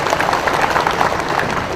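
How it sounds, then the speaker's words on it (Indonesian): An audience of officials at a government assembly at Gedung Pakuan gives a brief, steady round of applause, many hands clapping together in a continuous rush. "Tepuk tangan dong."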